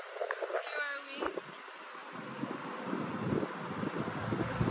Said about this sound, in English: It was actually really windy at that time